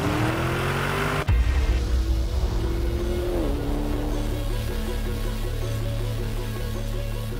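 A Lamborghini Urus SUV engine roars loud and close, a steady deep rumble with a sharp shift in pitch near the start before settling into a sustained drone.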